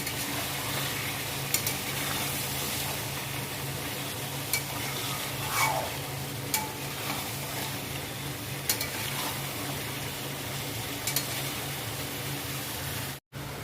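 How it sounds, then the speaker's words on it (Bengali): Country chicken pieces fry and get stirred in a pot for a kosha curry: a steady close sizzle runs throughout, with a few brief scrapes of the spoon and a sharp knock near the end. "তো মাংস কষানো আমার হয়েই এসেছে"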